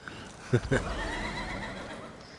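Horse neighs and snorts in The Elder Scrolls Online, two short loud bursts near the start followed by a steady ambient game bed, with faint talk in the background.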